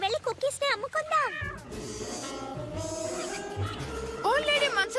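A cartoon cat meows in a few short, rising cries, close and clear, mixed with speaking voices and a bed of background music.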